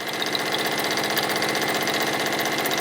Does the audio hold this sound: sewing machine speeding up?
yes